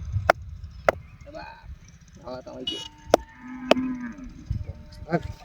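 A cow on a farm lets out one long, drawn-out moo near the middle, with sharp clicks and knocks around it and people talking faintly in the background.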